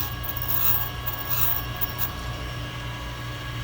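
A valve grinder polishes and grinds Mopar 360 valve stems, giving a steady close rasping rub over a low mechanical hum, continuous and even with no speech.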